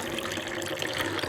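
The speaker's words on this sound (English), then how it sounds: "when you put your drain pipe in, you'll see water will come out" Water drains out of the drain pipe of a Wonder Wash hand-crank washer in a steady, continuous gushing rush, close and unbroken throughout.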